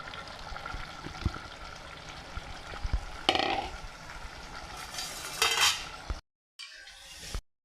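Onion is stirred into a tomato-onion paste in oil for potato curry, with a steady sizzle, scraping spoon strokes and clinks against the pan before a brief drop to silence.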